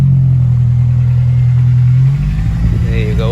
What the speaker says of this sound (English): Hunting its idle.